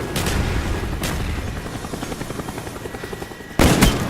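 A helicopter in Black Ops 1 thumps steadily with rapid rotor chop, loud and close, broken by a sudden burst of gunfire near the end.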